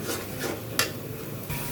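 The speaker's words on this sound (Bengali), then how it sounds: "হলুদ আর লবণটা দিয়ে এখন কিছুক্ষণ কষাই নেব নারকেলটা" Grated coconut stir-fried in a pan with salt and turmeric gives soft, faint scraping and rubbing strokes, a few louder swipes spaced across a quiet, even background.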